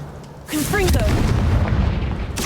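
A Confringo fire spell blasts in Hogwarts Legacy: a sudden booming burst with a whooshing, crackling tail that stays loud for about two seconds before a second burst hits at the end.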